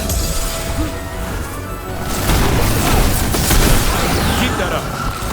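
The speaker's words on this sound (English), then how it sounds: "Firing at us!" Combat gunfire and heavy impacts from the video game Dragon Age: The Veilguard crack and boom in dense, overlapping bursts that grow louder midway, with people talking over the battle.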